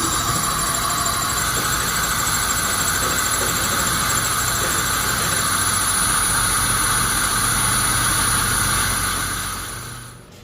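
A Suzuki Swift engine idles steadily with a constant mid-pitched hum and vibration, close by and loud, while the steering wheel is turned with a power steering leak present; the engine fades down at the very end.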